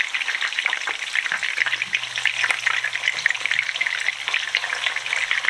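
Italian meatballs frying in a pan as they are flipped, a loud continuous crackling sizzle with dense spitting pops up close.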